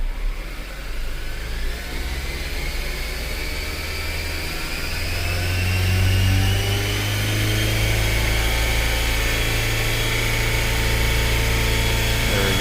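A 2003 Honda Element with a 2.4-litre AWD engine holds a steady high idle above 3,000 RPM, a loud continuous drone with whining overtones that rise slightly midway and then stay level.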